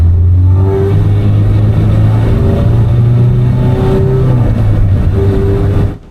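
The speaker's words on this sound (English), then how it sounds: "The exhaust has 2 resonators in it and is still loud." A BMW with a swapped Honda engine revs loudly through a two-resonator exhaust, its deep rumble rising and falling in several throttle blips, close by and continuous.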